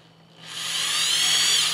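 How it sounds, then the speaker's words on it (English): A Black & Decker DR260B 3/8-inch corded drill/driver motor winds up from quiet into a steady, high-pitched electric whine with a buzzing hum, running alone and close. "the way you control the speed of the drill bit and the motor is simply by how hard you press in on this button"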